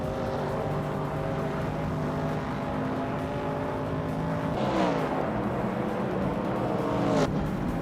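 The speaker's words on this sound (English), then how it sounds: "Ingle McCringleberry is driving a 1966 McLaren Elva Chevrolet" A 1966 McLaren Elva Chevrolet race car in a racing video game, its engine droning steadily with layered harmonic tones, then rising and falling as it revs and shifts near the five-second mark and again just before the end.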